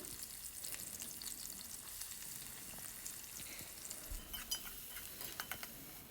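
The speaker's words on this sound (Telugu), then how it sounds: "మళ్ళీ ప్యాన్ పెట్టుకొని ఆయిల్ వేసుకొని ఇవైతే పచ్చిమిర్చి అయితే వేసుకున్నాను అనమాట తర్వాత ఉల్లిపాయలు" Green chillies and onions fry in oil in a pan, a steady soft sizzle with scraping stir sounds and a few utensil clinks toward the end, no talking.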